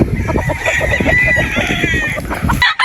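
A broodstag gamefowl rooster crowing loud and close, one long strained crow with clucking from other fowl around it, ending abruptly.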